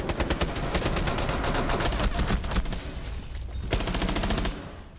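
Rapid automatic fire from an MPX submachine gun in Rainbow Six Siege, sustained bursts of loud, closely spaced shots with short breaks between strings.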